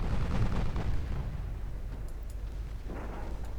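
Naval gun salvos and shell explosions from a warship battle in Ultimate Admiral Dreadnoughts, a steady loud rumbling barrage with heavy low booms, strongest at the start and swelling again near the end, with no talking.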